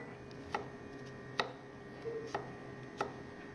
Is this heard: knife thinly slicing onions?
yes